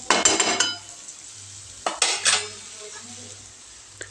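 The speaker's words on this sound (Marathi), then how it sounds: "तर आता हे मी सगळं मिक्स करून घेते." Potato pieces for bhaji being mixed in a pan, with sharp metal spoon clinks and scrapes in two bursts over a low background sizzle, close up with no talking.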